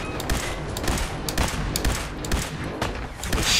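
Rapid gunfire in Fallout 4 combat: loud, dense bursts of shots crack in quick irregular succession close by, overlapping into a near-continuous barrage.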